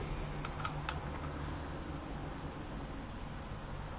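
Keys clatter on a large homemade computer keyboard, a short burst of clicks early on, then a steady hiss of background noise with no talk.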